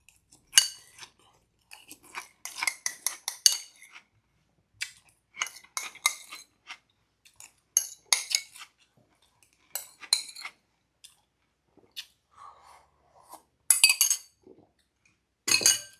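Someone eating Cinnamon Toast Crunch cereal from a bowl, with bursts of crunchy chewing and repeated bright clinks of a spoon against the bowl, close and intermittent with short quiet gaps.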